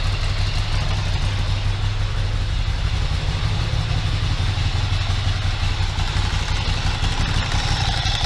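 A Ducati ST2 motorcycle engine idles steadily nearby after restoration, a low, even rumble with light mechanical clatter, no clutch noise, and no change in revs.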